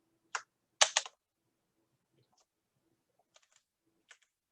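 Keys tap on a computer keyboard in short, quiet bursts: a cluster of clicks near the start, then scattered single taps after a pause, close and dry in a silent room.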